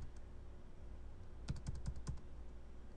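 Short burst of keystrokes as router configuration commands are typed on a computer keyboard, about five quick clicks in a cluster, fairly close and clear over a low steady hum.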